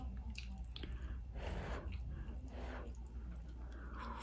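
Someone eats a bowl of menudo, Mexican tripe soup, close to the microphone. Soft, wet chewing and squishy mouth sounds come in a quiet, irregular rhythm with faint clicks.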